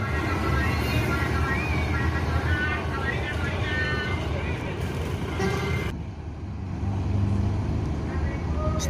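NPM Legres intercity bus pulling away from the Solo airport terminal, a steady loud engine drone with road and traffic noise, dipping briefly partway through, with a voice talking over it.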